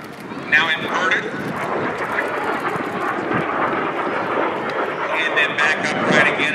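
A T-33 jet trailing smoke during an aerobatic display at the Chino airshow roars loud and steady overhead as a broad engine rumble, with a commentator talking over it.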